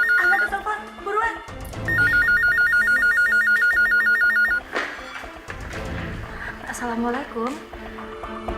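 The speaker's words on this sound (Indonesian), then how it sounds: "Angkat tuh telepon, buruan." A telephone rings in a domestic drama scene, an electronic trilling ring repeating in steady bursts, loud and close, with raised voices talking over and around it.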